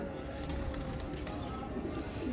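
A Ferozpuri Nayab pigeon coos faintly against a steady background hum, soft low calls with no clear speech.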